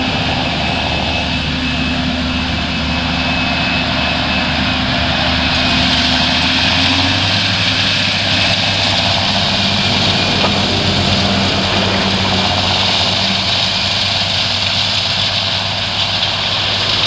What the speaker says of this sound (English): We've got a John Deere 7530 tractor with a power drill.